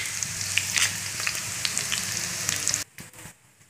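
Whole spices fry in hot oil, a bright crackling sizzle with spattering pops that cuts off abruptly near the end, leaving faint clinks.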